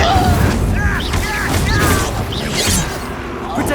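Incendio fire spell cast in Hogwarts Legacy during a spell-heavy fight, with dense, loud magical bursts, whooshes and impacts piling up continuously with no pause.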